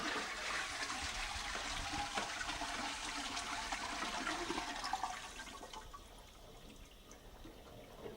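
A WC toilet flushes to trigger a standard water valve: a steady, loud rush of water that eases and quietens toward the end, with no voices.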